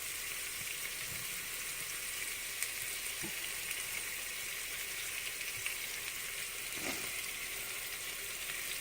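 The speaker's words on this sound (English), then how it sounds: "things are browning, things are roasting" Meatballs brown in a hot pan, giving a steady, close sizzle and frying hiss that runs unbroken with a few faint stirring knocks and no voices.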